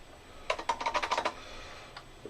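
Someone types on a computer keyboard in a quick burst of about ten close keystrokes, followed by a pause and a couple of lighter taps.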